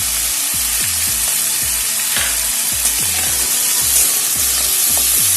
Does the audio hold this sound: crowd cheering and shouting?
no